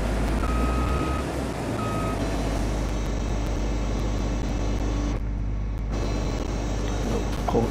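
A truck reversing in the Farming Simulator 22 video game, its repeated beeping warning tone sounding over a loud, steady engine rumble that continues throughout.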